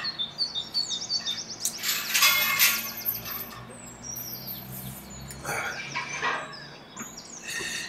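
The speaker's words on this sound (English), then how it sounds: "those bird calls seem to have some new additions, I think." Varied bird calls and chirps from birds that have newly arrived, repeated tweets and whistled notes at fairly close range layered over one another, with a busy stretch in the middle and steady low background noise throughout.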